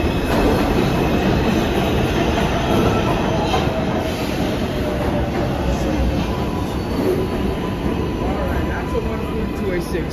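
A New York subway 4 train on the IRT Lexington Avenue line pulls in with a loud, sustained rumble, wheel squeal and rhythmic clatter close by, while people talk under the noise.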